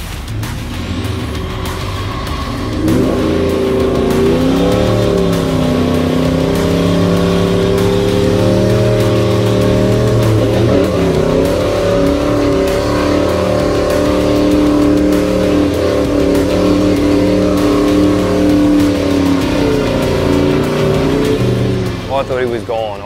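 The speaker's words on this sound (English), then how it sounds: "to see the amount of power and the sand flying off all 4 wheels, it was unreal" A Toyota 79 Series 4WD revs hard and claws its way out of boggy sand, its loud engine rising and holding a strained, fluctuating drone for many seconds, close up, with people talking over it.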